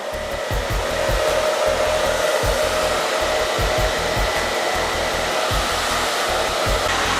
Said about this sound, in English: And just put your dryer on low.